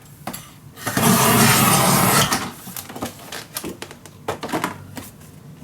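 Paper for a folio kit being cut on a trimmer, with a long rasping slice near the start and then a series of clicks and taps, close and quiet, without talking.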